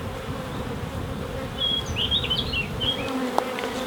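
Honey bees buzz around an open beehive while a beekeeper works it, a steady low insect drone with a few sharper buzzes passing close, no talking.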